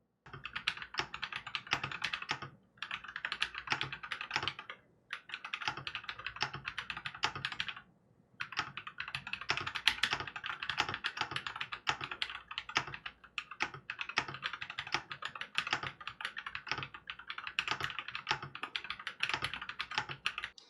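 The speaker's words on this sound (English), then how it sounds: "I will just do a final sound test of the keyboard" Rapid, continuous clacking of keys on a Glorious GMMK Pro White Ice mechanical keyboard, close up and crisp, in long bursts separated by a few brief pauses.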